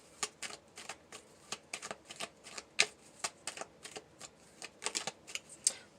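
Tarot message cards being shuffled by hand: a quick series of crisp riffling slaps and flicks, close and fairly quiet, in an uneven rhythm over about six seconds with no talking.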